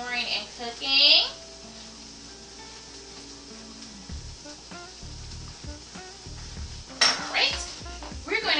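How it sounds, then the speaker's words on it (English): Barbecue sauce being stirred in a pan. A utensil clinks and scrapes against the metal in an irregular rhythm over a faint simmer, with short bursts of voice near the start and end. "we're going to finish stirring up our barbecue sauce"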